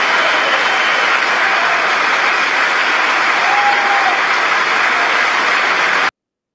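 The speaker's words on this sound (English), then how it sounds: "They all clap." Members of Congress clapping for Netanyahu in the chamber: a loud, sustained wash of applause from a large crowd, unbroken and even until it cuts off abruptly.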